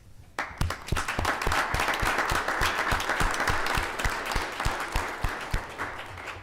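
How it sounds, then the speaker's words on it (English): A small crowd applauds at a city council meeting in Midwest City, Oklahoma, with steady overlapping claps starting abruptly and holding for several seconds before thinning out. No one speaks. "we'd be remiss if we didn't give them a round of applause"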